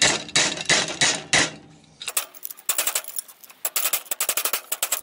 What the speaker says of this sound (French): Je vais commencer par donner une légère empreinte avec un marteau.